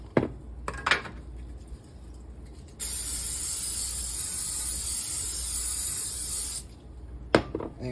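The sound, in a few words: spraying cooking spray onto a pan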